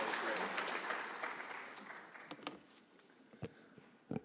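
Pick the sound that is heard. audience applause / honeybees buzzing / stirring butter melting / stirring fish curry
audience applause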